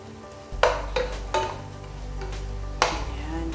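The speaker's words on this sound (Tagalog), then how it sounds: "Pwede din natin paghalo-halo para yung lasa manuot na sa mismong beef niya." Onions and beef stirred in a pan, a steady low sizzle broken by several distinct scraping clatters of a utensil against the pan.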